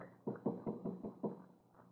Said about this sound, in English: Now I'll knock.